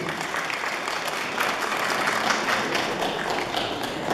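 Applause from a concert audience at a finalists' competition, welcoming a young singer, continues at an even, dense level throughout with no voices over it.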